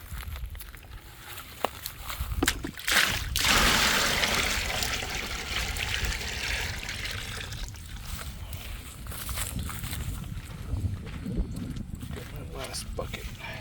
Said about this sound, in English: let's get 2 more buckets of water and that should complete my filling.